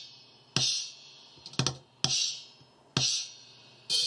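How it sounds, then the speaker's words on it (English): A cardboard box struck as a bass drum gives five sharp, close thumps at irregular intervals, each with a brief papery rattle and quick decay, heard alone in a quiet room. "the sound I'm getting in, for example, from my bass drum, which is my cardboard box"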